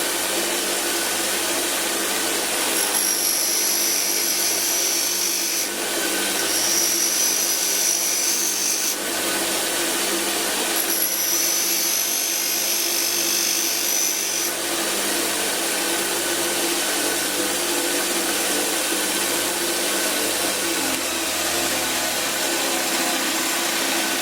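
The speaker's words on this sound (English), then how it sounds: "I'm going to try and grind this drill that we had earlier" A bench grinder sharpening a drill bit, with repeated grinding passes of several seconds each over a steady motor whine, close and fairly loud, with no talking.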